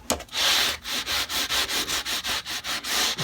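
Guitar frets along a fretboard being polished by hand, a run of quick rhythmic rubbing strokes, about a dozen back-and-forth swipes, close and clear with no talking.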